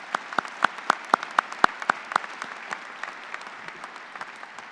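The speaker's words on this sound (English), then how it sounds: "let's give one more round of applause to all our award winners today." Clapping at a 2021 pharmacy college graduation ceremony honoring award winners, with a few loud, distinct claps standing out over a steady bed of audience applause that thins toward the end.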